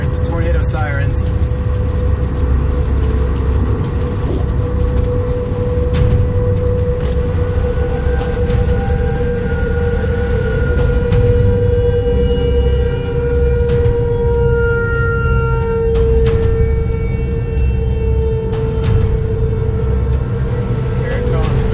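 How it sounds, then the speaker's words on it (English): A steady wailing tornado warning siren drones on without pause, carried from a distance, while people talk nearby. "There's the tornado sirens."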